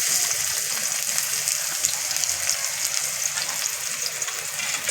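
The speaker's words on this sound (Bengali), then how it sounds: "পেঁয়াজটা হালকা করে ভেজে নেব।" Chopped onions fry in hot white oil in a wok, giving a loud, dense, continuous sizzle that holds steady without voices.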